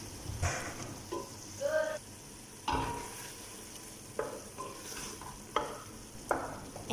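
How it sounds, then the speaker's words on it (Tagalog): Garlic and ginger paste stirred and frying in a pan for butter chicken, with a soft sizzle under repeated scraping strokes of a spoon, close and moderately loud, no talking. "Now I'm going to add my garlic and ginger paste."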